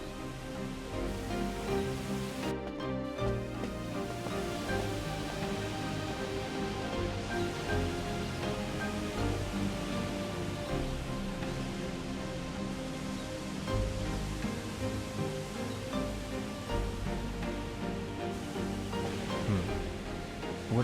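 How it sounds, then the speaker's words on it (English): Steady, continuous rushing wash of a waterfall in the Shenmue 2 video game, a broadband roar with layered tonal game ambience and music running throughout. "It sounds like a waterfall."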